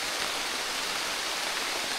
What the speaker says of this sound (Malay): Hujan dah lebat.